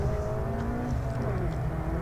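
A slalom race car approaches on a track at an autoslalom event in Wangen SZ, its engine drone steady and fairly loud throughout, a continuous rising hum with no clear pass-by peak.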